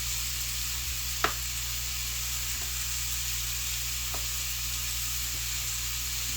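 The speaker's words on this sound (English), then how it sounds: "You got the sausage cooking" Sausage sizzles in a pan for a breakfast casserole, a steady bright frying hiss throughout with a couple of faint clicks and one sharp utensil tap near the start.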